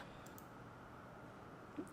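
A computer mouse clicks twice, quick and faint, near the end, against a quiet room hum with no other activity.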